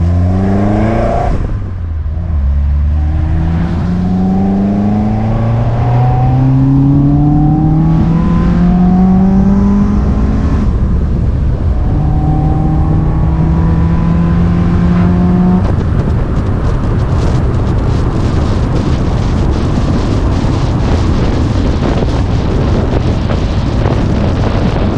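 Citroen AX 16v engine on individual throttle bodies revving on a dyno, loud rasping induction roar climbing through repeated pulls, then settling into sustained full-throttle noise with no talk.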